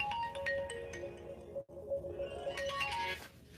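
A phone ringtone plays a short melodic tune, pauses very briefly, then repeats the melody at a moderate volume.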